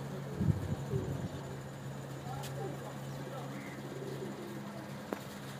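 Teddy pigeons cooing softly in a loft with a low steady hum, the calls faint and intermittent amid background noise and brief handling sounds.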